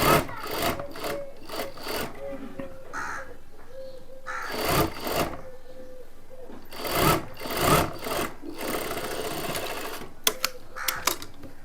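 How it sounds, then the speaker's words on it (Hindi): A sewing machine stitches a folded kurta pocket in short, close bursts of rapid mechanical whirring, separated by pauses and faint handling noises. "पॉकेट को फोल्ड करने के बाद सिलाई को हम पूरा कर लेंगे।"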